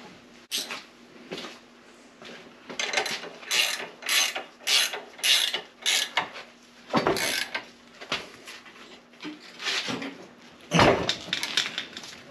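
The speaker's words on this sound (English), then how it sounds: "Let me get a wrench." Wrench ratcheting during final assembly of a Woods finish mower spindle: a string of rapid mechanical clicking bursts in irregular runs, close and moderately loud, with no talking.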